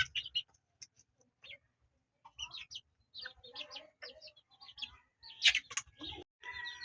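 Pet chickens are being fed nearby, letting out bursts of chirps and soft clucks in irregular clusters against a quiet background.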